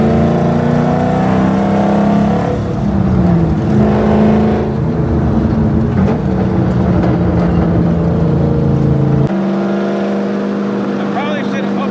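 A car engine running on an AI-generated tune revs hard nearby, producing a loud, sustained droning roar whose pitch climbs and falls, then drops to a steadier idle-like tone near the end.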